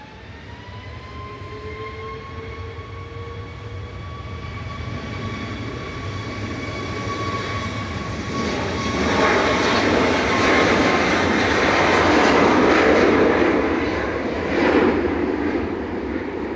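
A Ryanair Boeing 737 MAX 8 jet taking off at Manchester Airport, a rising whine giving way to a broad engine roar that builds steadily and stays loud at a moderate distance.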